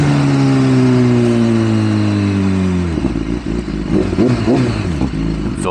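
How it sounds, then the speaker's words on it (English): BMW S1000RR motorcycle engine droning steadily as it decelerates, then a sharp drop into a burbling, popping downshift sequence with quick throttle blips, loud and close. "Love those downshifts, of course."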